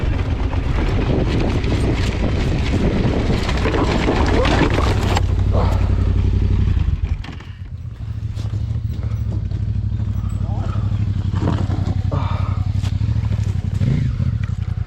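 An off-road motorcycle on a rough trail revs and clatters loudly up close, then drops away briefly before its engine picks up again.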